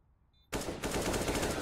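A rapid burst of automatic gunfire from a CS:GO match in a women's esports qualifier, sharp and dense, firing continuously for over a second after a near-silent start.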